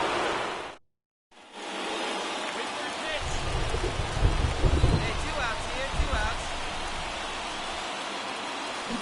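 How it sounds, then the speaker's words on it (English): Steady rain hisses over a baseball game as a broadcaster talks through it, with crowd and stadium murmur underneath; the noise briefly drops out near the start, then a low rumble swells in the middle. "This rain is not letting up."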